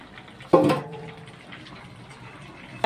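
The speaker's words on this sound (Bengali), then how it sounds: "দিদি আলু ঢেলে দিচ্ছে" Boiled potatoes tipped into a large cooking pot over a wood fire at a village school feast, a sudden wet splashing pour that fades into low bubbling and background murmur.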